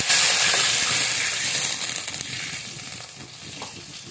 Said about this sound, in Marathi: यातच 2 वाटी पाणी टाकायचं